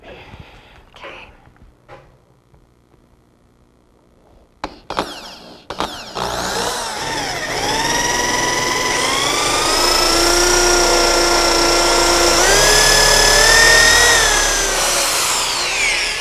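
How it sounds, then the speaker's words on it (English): Power drill boring faucet holes for hot and cold valves into a vanity top: a few quiet handling knocks and short bursts, then a loud sustained whine that shifts in pitch as the bit cuts. "I'm drilling 2 more 8-inch centers for our hot and cold water valves."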